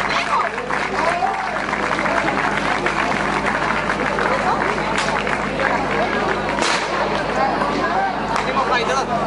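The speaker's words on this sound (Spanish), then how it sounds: "Un aplauso." A crowd applauding at a Verbena de San Juan street festival in Spain, loud dense clapping mixed with cheering and chatter, steady throughout with a few sharper bursts, people talking over it.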